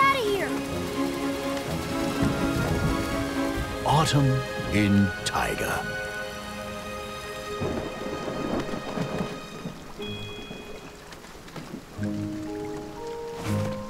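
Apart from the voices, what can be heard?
rain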